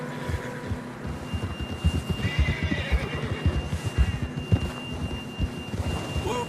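A horse in Red Dead Redemption 2 whinnies in a Western setting, with steady hoofbeats and rumbling ambience running underneath at moderate volume.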